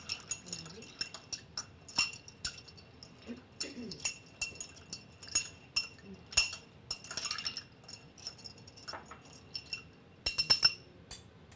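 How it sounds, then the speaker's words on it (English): A cocktail spoon stirs a drink to dissolve sugar, tapping the glass in light, irregular clinks and scrapes that recur quietly over several seconds, with a quick cluster of sharper clinks near the end. "we're just going to take our cocktail spoon, we're going to swirl this around a little bit, help dissolve the sugar"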